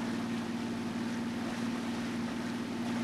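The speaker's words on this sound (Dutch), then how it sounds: "En wat een speedboot. Ik ga wel hard, joh." A video game speedboat engine roars steadily with a strong constant hum and a rushing wash of water and wind, loud and unbroken throughout.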